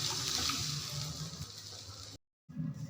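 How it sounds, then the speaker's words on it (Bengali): Water pours gently into a cooking pan for a fish curry, a steady splashing rush that fades, drops out briefly, then resumes. "এবারে হালকা হাতে জল দিয়ে দিলাম।"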